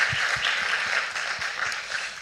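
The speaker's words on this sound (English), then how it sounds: "If we can give the technical team a round of applause" A live audience applauds the technical team at a sustainability event, a steady, dense wash of many hands clapping that holds evenly for a couple of seconds.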